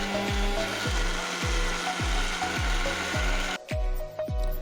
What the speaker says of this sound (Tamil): இதை நாம் கொஞ்சம் கொரப்பாக அரைச்சி எடுத்துக்கலாம்